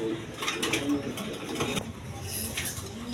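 A pair of high-flying Giribaz pigeons cooing softly at close range, low repeated coos mixed with faint rustling and mechanical clatter.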